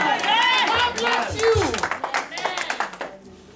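At a church service, an audience claps together with shouted voices and crowd noise, with loud rhythmic claps and excited speech.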